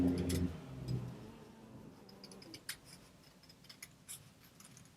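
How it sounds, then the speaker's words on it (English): Scissors cut around the edge of a paper teddy bear card, with a cluster of crisp snips at the start. Faint, scattered ticks and clicks follow in a quiet room. "I'm just going to cut right around the edge here"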